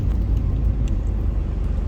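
A Nissan 370Z fitted with an Amuse body kit driving, heard as a steady low engine and road rumble from inside or near the car, continuous and even throughout.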